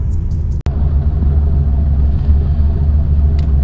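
A 1982-1992 Camaro or Firebird engine idles steadily with a deep, continuous low rumble, running mildly boosted at about one or two pounds, with a brief dropout partway through and no talk.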